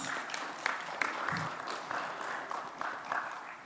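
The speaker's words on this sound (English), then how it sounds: "Let's just give a round of applause to all the speakers." A small group claps in a fairly faint, uneven patter of applause lasting a few seconds, like a modest audience at an academic symposium.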